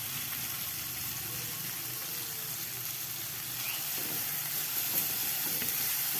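Spices, sliced spring onion, palm sugar and stock powder sizzle steadily in a pan while being stirred, cooking the base for Sundanese green-chili besengek, with a constant close frying hiss and occasional scrapes.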